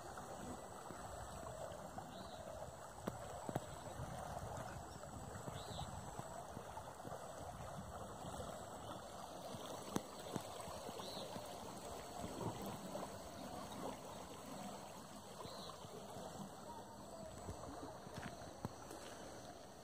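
Water runs steadily in a stream, a continuous broadband rushing wash with faint scattered clicks and knocks, even and unbroken from start to finish at low level.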